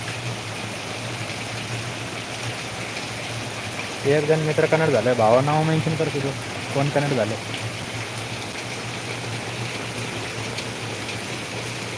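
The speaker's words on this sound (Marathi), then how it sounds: "पाऊस बघा काय भयानक पाउस आहे" Heavy, steady downpour during a storm in Ahilyanagar, a dense wash of rain noise running throughout, with someone talking over it in the middle.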